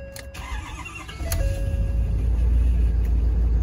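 A 2013 Ford F250 Lariat crew cab truck with 104,000 miles starts by remote start, a brief crank followed by a low, steady, rumbling idle close by.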